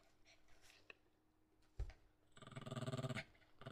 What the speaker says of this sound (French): Baston de chien.